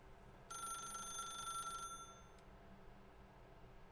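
A telephone in the video game The Stanley Parable rings once with a bright electronic trill for over a second, moderately loud over a low room hum, then stops.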